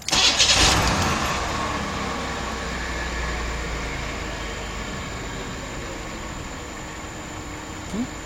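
A 1990 Buick LeSabre with 138,000 miles and a stalling fault from a lost camshaft sensor signal cranks briefly, catches with a loud burst, then settles into a steady, close idle.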